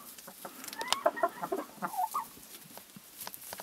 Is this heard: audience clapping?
no